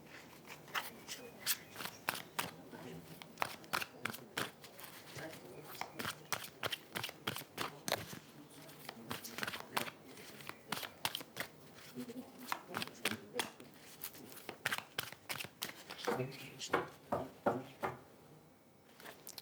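Tarot cards being shuffled and drawn one after another, a long series of crisp rhythmic riffling snaps and slaps, close and quiet.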